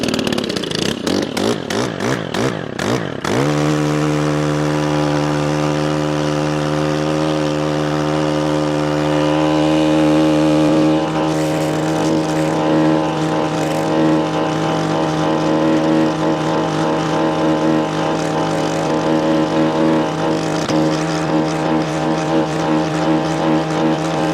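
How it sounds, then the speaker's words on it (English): A Stihl multi-tool mini tiller in wet garden soil starts with a few sputtering pulls, then roars into a loud, steady engine drone that varies slightly in load as it works. "So let's fire her up, do some tilling."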